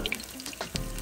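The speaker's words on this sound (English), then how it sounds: "I'm gonna stir fry this sausage for a little bit, right?" Sausage stir-frying in vegetable oil in a pot gives a close, crackling sizzle with brief pops and stirring scrapes over one second.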